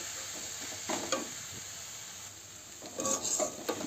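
Grated coconut and sugar cook in a pan while being stirred, a soft steady sizzle with scraping strokes that swell around the one-second mark and again near the end, close and fairly quiet, no voices.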